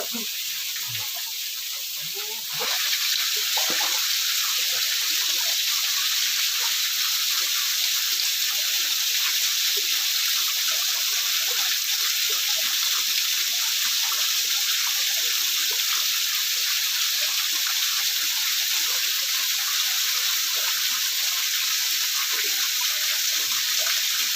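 Water flows and splashes steadily at a waterfall being cleaned, a loud continuous hiss that jumps up after a brief quieter start and then stays even throughout.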